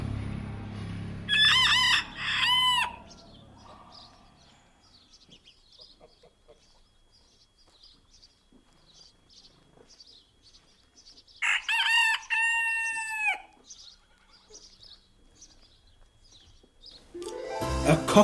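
A rooster crows twice in a quiet rural morning, each cock-a-doodle-doo loud and ringing with a few clucks and faint birdsong between, the calls spaced several seconds apart.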